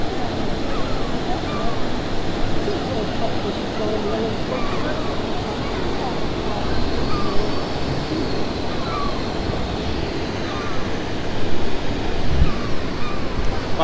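Water pours over the stepped river weir in Bath, England, a steady broadband roar that fills the scene from start to finish, with wind buffeting the microphone.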